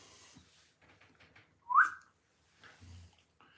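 A single short, bright whistle note from a homemade wooden whistle rises and falls quickly, standing out clearly against faint background noise and low murmurs.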